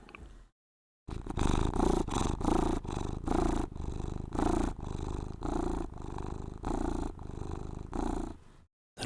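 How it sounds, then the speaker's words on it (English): A cat purring steadily up close, with regular rumbling pulses of inhale and exhale in a gentle rhythm, loud and continuous after a brief pause near the start, with no talking. "some gentle cat purrs for everybody"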